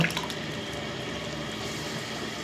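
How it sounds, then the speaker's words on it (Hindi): Yogurt, about a cup, going into a chicken karahi in a Karachi street-food kitchen, giving a steady wet, liquid pouring and squishing sound throughout, fairly close and without talk. "ये देखो अब इनमें हम मतलब दही ऐड करेंगे तकरीबन 1 कप"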